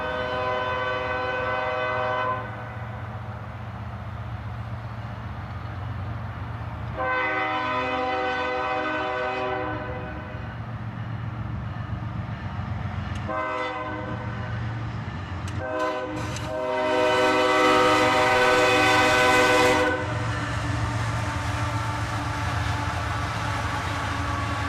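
A northbound CSX intermodal train led by an ES44AC and a YN2 AC44CW locomotive sounds its horn in a long-long-short-long pattern over a steady rolling rumble, loud and fairly close.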